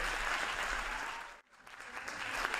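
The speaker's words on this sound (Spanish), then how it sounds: "Aplauso fuerte para Natalio Martín Pérez" Applause at a sports awards gala in a theater for a young athlete, a dense burst of clapping that dips briefly in the middle before swelling again to full strength.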